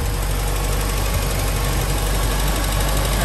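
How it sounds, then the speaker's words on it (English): An MG Midget 1500 sports car engine idles steadily up close, with an even, fast mechanical ticking and hum that never changes over a few seconds. "The engine runs like a little sewing machine."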